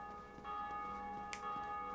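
A church bell in the video game Dark Souls tolls once, a resonant strike ringing out from a distance over a steady ambient game soundscape.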